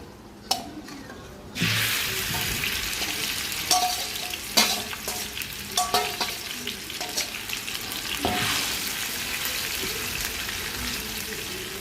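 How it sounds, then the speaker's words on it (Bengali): Tilli (offal) dropped into hot oil in a pan: a sudden loud sizzle bursts in and holds as steady, close frying, broken by occasional clacks and scrapes of stirring. "তেল গরম হয়ে গেছে এখন তিলিগুলো দিয়ে দিব"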